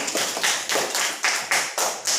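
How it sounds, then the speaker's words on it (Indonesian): Classroom applause in rhythmic unison, about seven evenly spaced clap bursts in quick succession, close and moderately loud. "Tepuk tangan."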